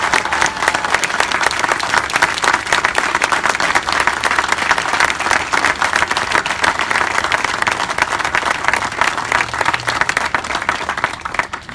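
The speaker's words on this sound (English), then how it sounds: "please give a warm welcome and a round of applause for my mother" Loud, sustained audience applause at a state senator's swearing-in ceremony, dense steady clapping from a large crowd continuing for over ten seconds without pause.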